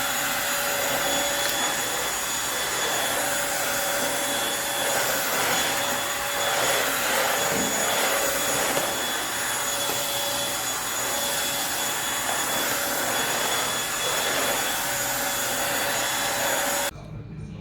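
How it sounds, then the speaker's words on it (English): A Eureka Blaze lightweight 3-in-1 stick vacuum runs steadily indoors in a hallway, a loud, close, constant motor whine with a high airy hiss, holding for about seventeen seconds before cutting off abruptly. "I'm going to vacuum here in the hallway using this Eureka, little Eureka vacuum cleaner."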